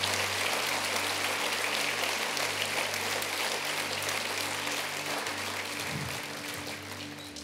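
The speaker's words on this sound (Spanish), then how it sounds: "Denle un aplauso fuerte al Señor." A church congregation gives sustained, dense applause that fills the room, with a low hum beneath, gradually tapering off near the end.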